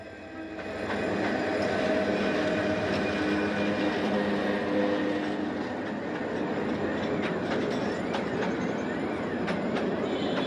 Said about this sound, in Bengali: ট্রেনের এই ঝকঝক শব্দটা আমার কাছে ভীষণ ভালো লাগে